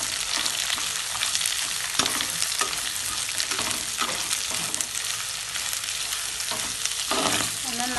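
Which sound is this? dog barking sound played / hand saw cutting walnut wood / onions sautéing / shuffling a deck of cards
onions sautéing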